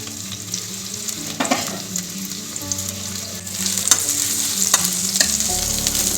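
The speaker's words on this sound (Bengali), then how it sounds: "আর রসুন ফোড়ন দিলাম" Garlic sizzles in hot oil as a tempering for sweet potato leaves, a steady close frying hiss with light stirring scrapes, growing slightly louder and denser after the midpoint.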